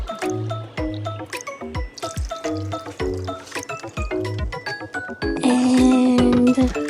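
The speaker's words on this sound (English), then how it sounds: "And you could add the water." Water poured into a pot of Filipino pork adobo, with drips, sloshing and clinking at first, then a louder steady pour filling the pot near the end.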